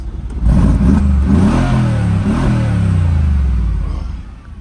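A car engine revs up loudly and holds a rising roar, close by, then eases off toward the end.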